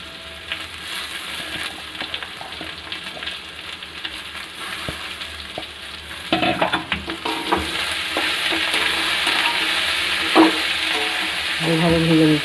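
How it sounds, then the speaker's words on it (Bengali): Banana flower lightly frying in oil in a pan for a Bengali mochar ghonto, a steady sizzle with scraping stir strokes that grow busier and louder toward the end, heard close and without talk. "মোচাটাও এর সাথে একটু তেলে ভেজে নিলে ভালো হবে।"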